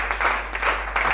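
A church congregation claps and cheers loudly in praise, a dense wash of applause with small swells in the crowd noise over a steady low hum.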